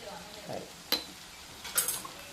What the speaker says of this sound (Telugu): టూ టేబుల్ స్పూన్ కారం వేసాను వేసి చక్కగా తిప్పేస్తే ఈ ఎండి చేపలు కూడా కొంచెం కారం పట్టుద్ది